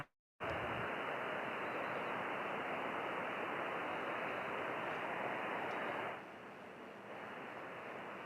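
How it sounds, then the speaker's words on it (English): Steady, broad static hiss from a ham radio receiver tuned to the 6-meter band fills the whole stretch after a brief silent start, dropping slightly in level near the end. "That white noise is my radio audio."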